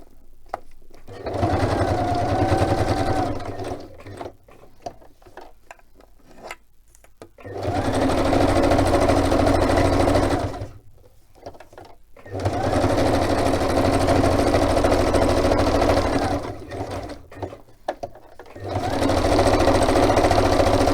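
A sewing machine stitches in three long runs, stopping and starting again between them, loud and close, while a person works on a craft piece.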